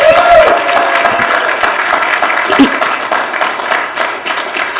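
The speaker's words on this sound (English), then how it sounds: "And I think Chris deserves a huge round of applause for doing this." A conference audience gives a round of applause, dense close clapping sustained through the whole stretch with a little crowd murmur.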